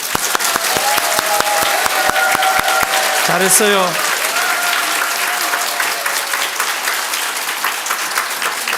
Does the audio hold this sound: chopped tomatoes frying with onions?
no